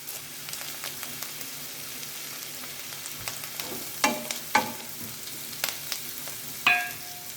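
Shallots and curry leaves frying in hot oil in a pan for a bottle gourd thoran give a steady, soft sizzle, with a few sharper crackles and pops rising out of it partway through.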